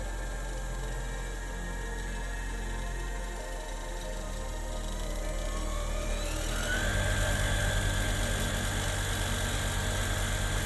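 A homemade brushless motor converted from an old alternator, driven by a controller on a 55-volt DC supply, spins up with a rising whine. It then settles into a loud, steady high-speed hum and buzz with no voices.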